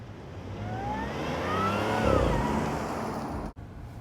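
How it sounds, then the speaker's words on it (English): A supercharged Audi S5 coupe fitted with an APR aftermarket intake revs up and then eases off, a smooth rising engine note with supercharger whine, heard fairly faint from outside the car. "that APR aftermarket intake, and that really helps with the sound of this supercharger."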